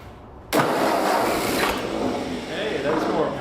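An old Ford tractor engine cranks and catches suddenly, then holds a loud, rough, steady running roar close by. Quieter background noise comes just before it starts.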